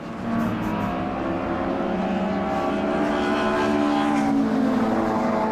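Touring race cars at the Brands Hatch circuit in a classic touring car race, with a red BMW among them, give a steady loud engine roar that swells slightly as the cars pass, continuous throughout without speech.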